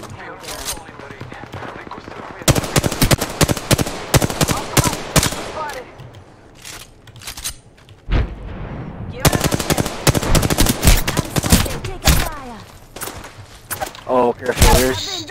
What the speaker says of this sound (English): Hostile right here. Firing. Fire.